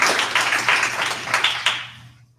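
Applause at a school board meeting during public comment, a short burst of clapping from a small group that swells in pulses and then fades out to quiet.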